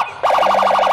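A toy police car siren switches on abruptly and wails in a rapid, warbling up-and-down electronic tone, loud and close, continuing to the end.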